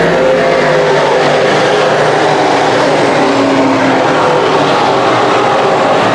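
Sportsman race cars roar around Can-Am Speedway, a loud continuous engine drone with no break and no speech.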